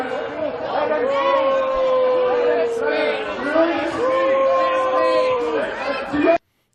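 A crowd at a rally chants "free speech" in loud, rhythmic unison, with overlapping voices and shouting, close and continuous before stopping abruptly.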